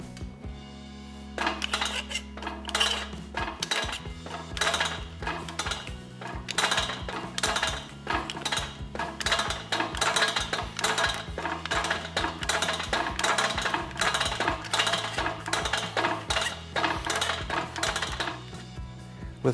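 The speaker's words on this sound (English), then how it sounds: "I'll curve this to match the template by shrinking the wide flange." A JS Tools shrinker works a metal angle's wide flange, giving a steady run of sharp metallic clanks and clinks at a quick, uneven rhythm, close and alone.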